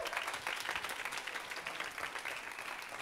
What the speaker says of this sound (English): Please give a round of applause for Francesco.